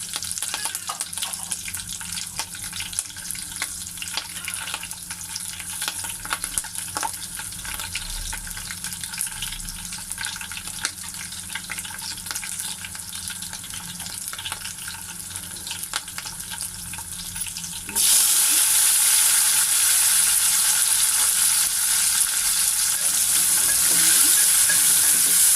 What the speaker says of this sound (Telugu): ఎర్రగా వేగాలి.